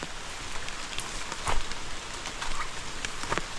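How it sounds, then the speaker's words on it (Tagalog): Rain patters steadily outdoors near plants and bamboo, a dense soft hiss dotted with a few louder drops. "Umulan na."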